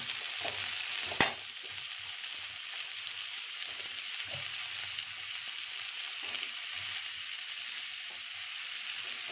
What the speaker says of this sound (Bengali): এখন পেঁয়াজ আর কাঁচা লঙ্কার সাথে আমি আলুটাকেও ভেজে নেব।